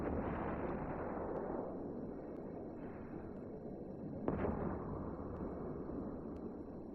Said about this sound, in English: Let's kick back and watch the explosion from the safety of our capsule